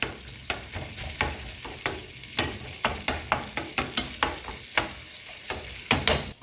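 Fideo and ground beef fry in a pan with a steady sizzle, broken by a regular run of scraping stirs and utensil knocks, close and fairly loud.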